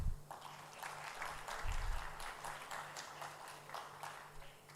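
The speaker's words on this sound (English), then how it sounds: "Can we have a big round of applause for the AIMCC Organizing Committee of ALSA Sri" Audience at an international moot court competition closing ceremony clapping for the organizing committee, a soft, steady spread of many hands heard from a distance, fairly faint throughout.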